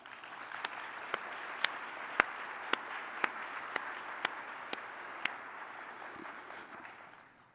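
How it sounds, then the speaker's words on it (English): Applause from a conference audience at a nursing education summit fills the room as a steady wash of many hands. A few sharper individual claps punctuate it at regular intervals before it gradually tapers off at the end. "please give them a round of applause"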